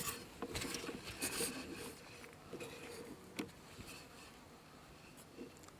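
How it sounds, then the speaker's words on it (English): Faint buzzing of native bees close by on a small white flower at Port Germein, with soft rustling and scraping sounds, steady and quiet throughout. "Here's some of the bees that I just caught on that little white flower"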